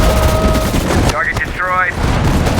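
Battle gunfire in the World War II strategy game Sudden Strike 4 at Guadalcanal: a dense rattle of distant shooting, briefly overlaid by a short radio-style voice.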